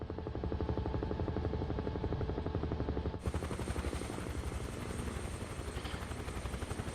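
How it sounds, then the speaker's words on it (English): Helicopter, flown in a game set at La Fraye during the Prussian retreat from Ligny in 1815, giving a steady loud rotor thrum with rapid blade chop throughout, rising in the high end midway. "controlling a helicopter very badly here"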